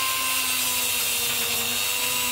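A handheld rotary tool whines steadily while polishing a part with green polishing paste, its constant high-pitched motor hum close and continuous throughout, with no talking.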